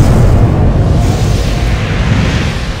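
The Phoenix weapon fires in a Power Rangers audio drama, a loud sustained roaring blast like a heavy explosion that rumbles on without a break and dominates the scene.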